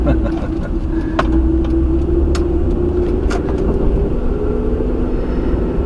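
Steady road traffic on North Church Street in Greensboro, near the Urban Loop construction zone on a Saturday morning, forms a continuous, fairly loud rumble of passing cars and engines with a few brighter swishes along the way.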